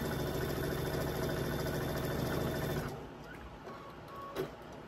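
A sewing machine runs steadily while stitching a floral state quilt block, a close continuous mechanical hum that stops partway through, leaving quieter handling and a small knock.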